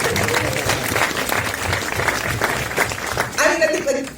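An audience at a film Q&A for Clemency gives the producer a round of applause: continuous, fairly loud clapping that fills the room while voices talk over it, with a brief burst of speech at the end.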